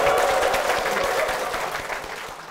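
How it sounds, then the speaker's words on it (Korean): Church congregation applauding together at a CBMC regional gathering, a dense, steady wash of clapping from start to finish that fades slightly toward the end. "박수로 하나님께 영광 올려드리겠습니다."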